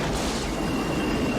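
A train rumbles past in a movie scene, a dense continuous roar of rolling wheels and rail noise that stays loud and steady throughout, with no talking.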